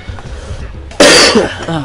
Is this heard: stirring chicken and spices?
no